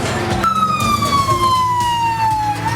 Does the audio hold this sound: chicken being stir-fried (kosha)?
no